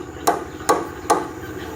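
Three hammer blows ring out close and sharp at an even, unhurried rhythm, each a hard percussive knock, during building work on a new house.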